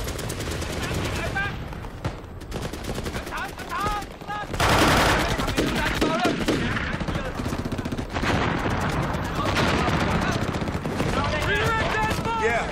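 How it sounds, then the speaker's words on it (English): Sustained mortar and small arms fire in a Vietnam War battle, dense bursts of gunfire and heavy blasts that run almost without a break, loud and close, with voices shouting under the din. "Sustained mortar and small arms fire."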